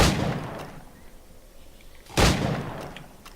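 Two bursts of gunfire in Black Flag target practice, a shot at the start and another sharp report about two seconds later, each trailing off into quiet.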